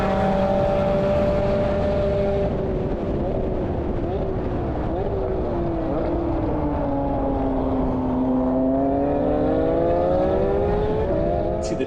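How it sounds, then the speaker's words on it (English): Porsche GT4 RS with center-over-axle exhaust pipes, its engine note stepping through downshifts with pitch sweeping down and back up in smooth waves, a sustained moderately loud drone heard alone. "See, the downshifts sound good, still not enough volume. Not enough wail out of the engine."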